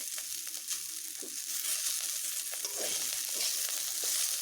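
Green plantain peels fry in oil with a steady, bright sizzle and faint crackling, no voices, at a low even level throughout.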